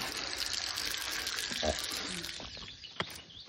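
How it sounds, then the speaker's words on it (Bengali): Tap water running into containers as they are filled in a home, a steady splashing gush with a few knocks and clinks toward the end. "আর এই দিকে দেখো ঠাকুমা জল ধরছে, আর সজল ভাই মানে কত জল দিয়েছে।"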